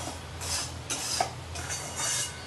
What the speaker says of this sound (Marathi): गॅस मोठा केला की आपल्याला पटापट हलवायचं आहे, खाली लागू द्यायचं नाही,